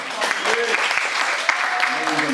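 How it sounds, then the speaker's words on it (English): An audience at a live stage show applauds in a dense, even burst of many hands clapping, loud and sustained, with a voice faintly present underneath. "Give him a big round of applause."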